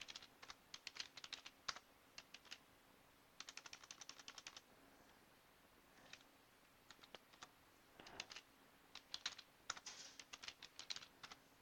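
Commands are typed on a computer keyboard during an Ubuntu 16.04 setup, coming as quick bursts of close, crisp keystrokes separated by brief pauses, fairly quiet with no voice.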